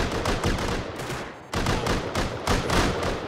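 Automated turrets in the game Rust fire loud, sustained rapid bursts of gunfire, a dense rattling barrage that breaks off for an instant and then resumes just as heavily.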